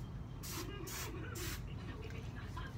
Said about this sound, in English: the last thing that I have to do is spray my hair with this Sheen spray